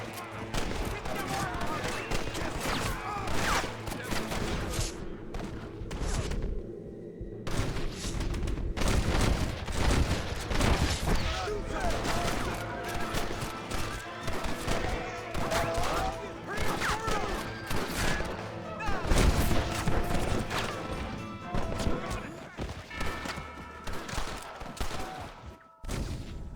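Gunfire from a shootout in the video game Red Dead Redemption, with repeated loud shots and volleys cracking irregularly throughout, mixed with booms and background game sounds.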